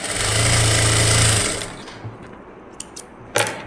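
A sewing machine running a steady fast stitch on a blouse dart, loud and close for over a second before stopping, followed by a few soft clicks and handling knocks.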